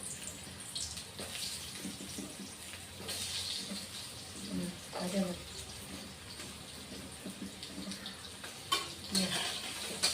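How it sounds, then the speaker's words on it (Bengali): Potatoes frying lightly in a pan for a mustard fish curry, giving a soft, steady sizzle with occasional stirring scrapes and clinks, fairly quiet throughout. "এবার আলু দিয়ে করব তো আলুগুলা অল্প ভেজে নিই"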